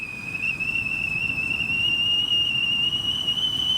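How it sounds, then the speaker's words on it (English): A gas canister stove gives off a thin, steady high whistle that holds one unwavering tone for several seconds over a soft low rumble, close by with no voices. "But we got a whistle."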